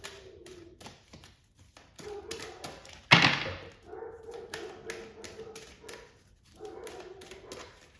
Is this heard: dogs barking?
yes